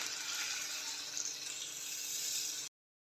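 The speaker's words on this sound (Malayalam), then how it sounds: "ആവശ്യത്തിന് വെള്ളമൊഴിക്കാം" Water pours into a simmering homestyle Kerala tuna fish curry, a steady close splashing flow for about two and a half seconds before stopping abruptly.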